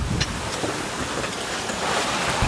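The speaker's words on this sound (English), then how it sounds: "So it's pretty rowdy out here on the ocean." Rough ocean swell and gusting wind surround a sailboat off Indonesia in a southwest swell, a steady broadband wash of surf and wind noise on the microphone, alone and with no talk.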